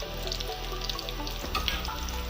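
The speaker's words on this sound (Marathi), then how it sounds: "कांदा मस्त हलकासा परतून घेते" Onion lightly sautéed in a pan for a spicy Maharashtrian patodi rassa curry gives a steady, close sizzle with soft stirring and scraping throughout.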